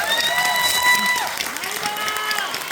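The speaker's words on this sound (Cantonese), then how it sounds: "俾一次掌聲我媽嘛" A concert crowd claps and cheers for a singer's mother, with steady applause carrying under a sustained synth tone and a voice speaking over it.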